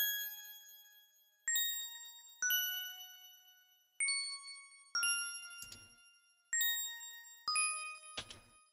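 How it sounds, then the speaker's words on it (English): Synth chime layer from an electronic remix produced in FL Studio, bright bell-like tones struck in a regular pattern about once a second, each ringing and decaying, with a few short noisy hits toward the end. "have this little like chime thing"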